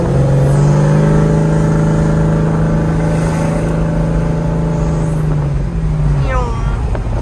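A 1972 Chevrolet Chevelle on a road test drive, its engine droning loud and steady from inside the car while accelerating, with pitch shifting as it pulls and a gear change near the end.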